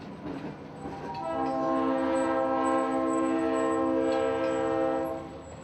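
A CSX EMD MP15 AC yard switcher locomotive in Jacksonville sounds its horn, a single sustained chord of several minutes' length? no—one long blast lasting about four seconds over low engine rumble, close and loud, then tapering off.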